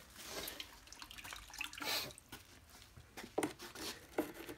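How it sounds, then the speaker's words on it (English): A kitchen knife being rinsed under running tap water, with splashing bursts and drips coming and going close by over a few seconds, no talking. "I'm going to rinse off this junk"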